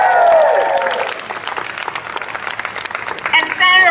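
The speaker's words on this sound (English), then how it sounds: "Can we hear a round of applause for her?" A crowd at an ACLU California rally for police accountability and bail reform applauds a senator, with moderate clapping rising after a speaker's voice at the start and giving way to more talk at the end.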